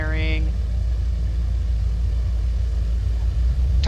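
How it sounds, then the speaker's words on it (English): A Dash 8 Q400 airliner in Flight Simulator X touches down on the runway, with a steady low engine and rolling rumble that drones on evenly and closely throughout. "Touchdown."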